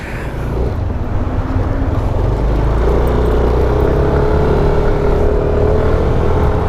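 A car engine droning loud and close through a muffler exhaust during a midnight drive, a steady roaring hum that rises slightly in pitch as it revs.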